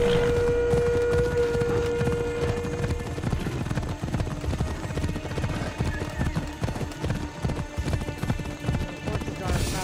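A horse gallops in Assassin's Creed Odyssey with a rapid, steady clip-clop of hooves that runs throughout, up close under game music and ambient battle noise.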